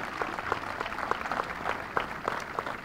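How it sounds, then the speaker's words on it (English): Outdoors at a youth baseball opening day ceremony, a small audience applauds the field crew with light, scattered clapping that stays fairly faint and sparse throughout. "Let's have a great round of applause one more time for the field crew."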